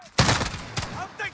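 Bursts of gunfire from Call of Duty Modern Warfare, two loud rapid volleys close by, with a voice speaking briefly at the end.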